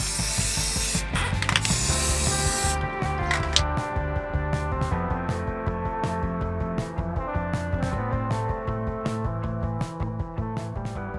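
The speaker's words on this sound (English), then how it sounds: "I'm just going to basically spray over all the worst sections of surface rust" Rust-converting paint sprays in short bursts over surface rust on a JDM 4x4 camper van, a loud hiss at first, then repeated sharp clicks and rattles of the spray can at close range, no voices.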